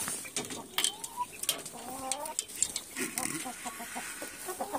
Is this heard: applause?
no